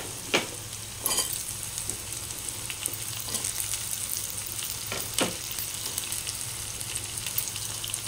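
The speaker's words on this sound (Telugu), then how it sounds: "ఇప్పుడు మనం కాకరకాయ వేసుకుందాం." Small, tender bitter gourds, left whole with their seeds, fry in a pan of hot oil. A dense, steady sizzle runs throughout, with a few sharp stirring clanks near the start and one midway.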